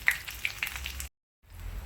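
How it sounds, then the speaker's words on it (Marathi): Green chillies deep-frying in hot oil for vegetable bhaji, a soft close sizzle with faint crackling pops, briefly cut to silence before the frying hiss returns. "मस्त अशी मिरच्या तळून घेऊयात आपण."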